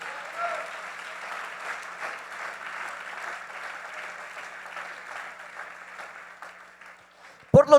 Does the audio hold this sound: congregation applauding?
yes